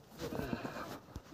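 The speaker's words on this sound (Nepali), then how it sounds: "बाख्रा पाठो" Goats and a young kid bleat in a village in Dailekh, Nepal, with several short, wavering calls close by over a steady outdoor background.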